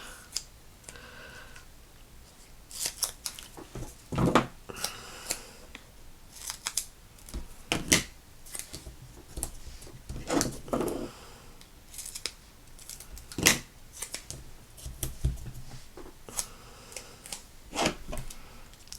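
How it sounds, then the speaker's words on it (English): Scissors snipping paper while making recycled Christmas cards, a run of sharp, irregular close-up cuts with small crisp clicks between them, the blades somewhat gummed with adhesive, with no talking. "I do need to clean my scissors."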